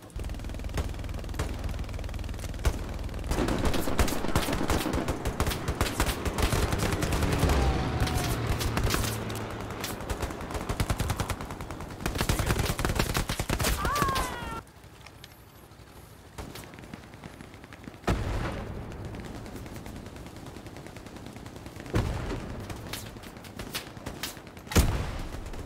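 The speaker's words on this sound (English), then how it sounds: "Where are they shooting from?" Gunfire in the World War II shooter Hell Let Loose, with dense bursts of rifle and machine-gun fire and heavy booms for about fifteen seconds, then quieter, scattered shots and distant thuds.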